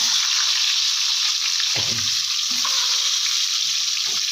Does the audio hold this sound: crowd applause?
no